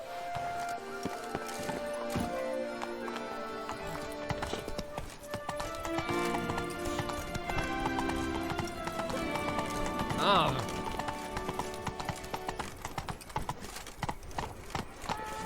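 Hooves of Roach, a horse in The Witcher 3: Blood and Wine, clip-clop steadily in a galloping rhythm over game music, with occasional whinnies, a rising swoosh and brief speech in between.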